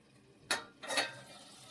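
Potatoes and green onions cooking in a pan for sabzi, with two bursts of sizzling and stirring scrapes that rise sharply and fade into a low simmering hiss, close and moderately quiet.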